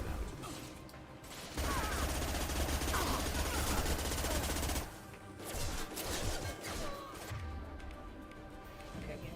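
Repeated heavy pistol shots ring out in Mass Effect 2, a dense burst of gunfire with mechanical clatter that pauses briefly, then resumes in rougher bursts under the game's background noise.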